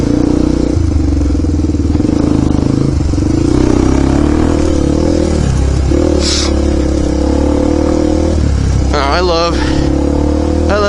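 Dirt bike engine droning steadily with shifting revs while riding through a desert wash, loud and close throughout, with wind and clatter and a brief high squeal near the end.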